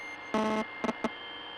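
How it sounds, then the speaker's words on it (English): A buzzing from headphones in The Suicide of Rachel Foster: one short harmonic buzz followed by two quicker blips, clear and close over a faint hiss. "Don't know, there's like a buzzing noise."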